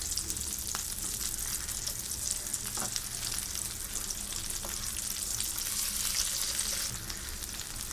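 Prawns stir-frying in a hot pan, a steady close sizzle with faint scrapes and stirring clicks throughout; no voices.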